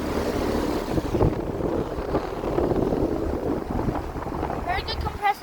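Gusty high wind reaching about 35 miles per hour outdoors beside a running air conditioner unit, buffeting the microphone with rough, continuous low rumbling and surges, over the unit's steady fan hum.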